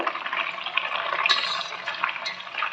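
Garlic drops into hot ghee in a home kitchen and sizzles steadily, a close, busy crackle with small pops, with no talking over it.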